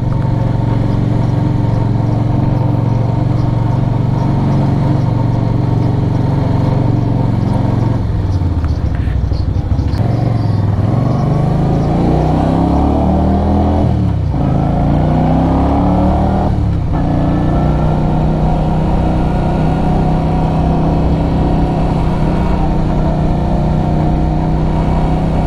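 A 2022 Keeway V250Fi motorcycle engine on a test ride through village lanes, a loud, close, continuous drone that dips and swells as the revs change, with several rising throttle sweeps in the middle.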